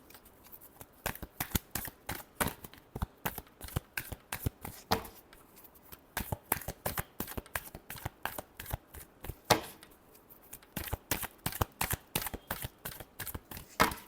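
A tarot deck is shuffled over and over in quick, crisp riffling bursts that come close and clear in an uneven rhythm, with short pauses between runs and no talking.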